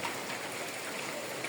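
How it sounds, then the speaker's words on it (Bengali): Heavy rain pouring steadily since dawn, a soft, even hiss of falling water with no talking, faint and continuous throughout. "ভোর থেকে অঝরে বৃষ্টি নামতেছে।"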